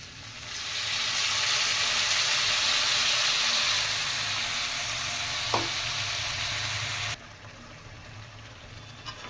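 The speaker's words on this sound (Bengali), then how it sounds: "সুন্দর করে আলুটাকে আমি মশলা দিয়ে কষিয়ে নেব।" Boiled potatoes fry with spices in a pan for a spicy egg and potato curry. A loud, rushing sizzle swells, with one spoon clink, then drops sharply to a quieter simmer.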